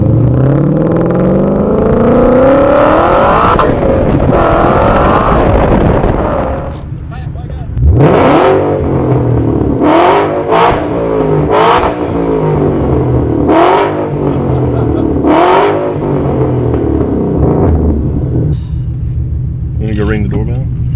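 A 700HP Ford Mustang GT500 with a Pypes cat-delete exhaust revs hard on a street, deep rumbling idle broken by a long climb and then a series of sharp, loud throttle blips, with people talking over it.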